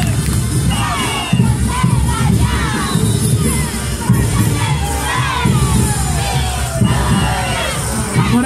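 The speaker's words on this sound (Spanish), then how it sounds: "¡Venga la fuerte palmas a Caporales Victoria, presente el día de hoy!" A large crowd at a street carnival parade in Bustamante roars and cheers continuously for a Caporales dance troupe, with shouts and whistles rising over a dense wash of clapping and voices.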